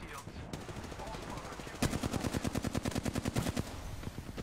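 Rapid automatic gunfire in Apex Legends during a boss fight, a fast steady burst of shots lasting a couple of seconds, loud and up front over game ambience.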